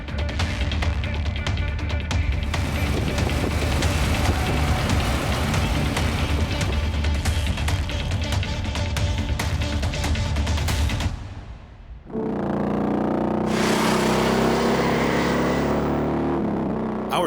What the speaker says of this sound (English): Harley's V2 motors have been roaring the sound of freedom and adventure.